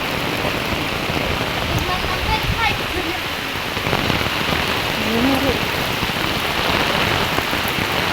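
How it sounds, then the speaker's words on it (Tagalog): Heavy rain pours down continuously at a hanging bridge in a dense, hissing roar, with faint Tagalog voices briefly audible beneath the downpour. "Grabe lakas ng ulan."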